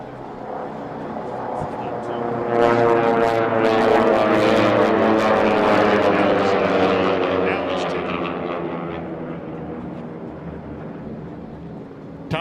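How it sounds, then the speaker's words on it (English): T6 race airplanes with 9-foot Hamilton Standard propellers whose tips go supersonic roar past at an air race pylon, a harsh rasping drone that swells loud over a few seconds and slowly fades as they pass. "Listen to the tips of those 9-foot Hamilton standard props going supersonic."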